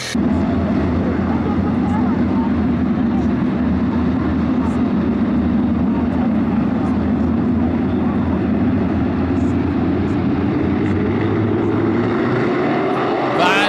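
305 sprint cars roaring away at the green flag of a heat race at Attica Raceway Park, a loud sustained engine drone that builds and holds, with a announcer talking over it.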